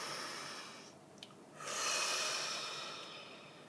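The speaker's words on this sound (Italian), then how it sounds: "respirone profondissimo." A very deep breath, drawn in slowly and exhaled close and soft, with a brief pause in the middle and no speech.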